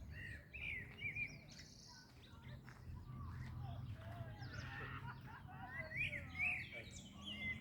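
Birds chirp and call in a quiet, busy mix of short tweets and whistles over a low rumbling background. One voice may resemble a fowl, and soft talk appears in places.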